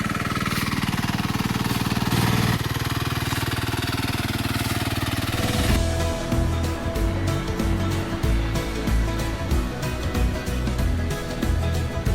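A tractor engine working a muddy, flooded paddy field in Konkan: a loud, continuous rough engine drone with a fast, rattling, chugging pulse that shifts and turns choppier partway through.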